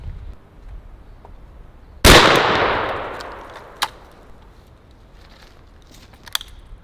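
A single loud shot from an AEA 12 gauge Harpoon air shotgun fires outdoors at a target range, a sharp blast with a long decaying tail, followed by a couple of fainter clicks or impacts.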